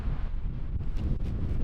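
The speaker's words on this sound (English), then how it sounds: "it's windy now, and it will pick up" Strong wind gusts buffet a mountain cabin in winter, a steady loud roar dominating the low end with rushing, microphone-battering bursts throughout, no voices.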